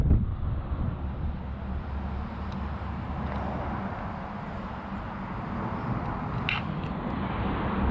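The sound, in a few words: wind on the South Downs hills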